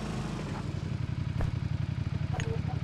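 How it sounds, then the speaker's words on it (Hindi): Motorbike approaching in the video game PUBG Mobile, a steady low pulsing engine drone throughout, with a player's voice speaking briefly over it. "एक बाइक आ रही"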